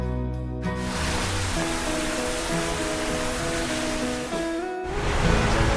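Waterfall near Ubud, Bali, a loud, constant roar of rushing, crashing water close by, with broadband noise that swells slightly toward the end while faint voices sit underneath.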